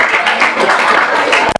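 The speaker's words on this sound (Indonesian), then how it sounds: "tepuk tangan dong untuk kita semua" Children at an anti-bullying school seminar clap together in a loud, dense burst that cuts off abruptly after a moment, leaving a few scattered final claps.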